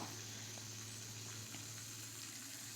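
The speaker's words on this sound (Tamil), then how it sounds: "கருவேப்பிலை போடுறேன் இது மூணு நல்லா பொரிஞ்சு வரட்டும்" Mustard seeds, dried red chillies and curry leaves fry in hot oil with a continuous, even sizzle, close and alone, while tempering spices for a mango pachadi.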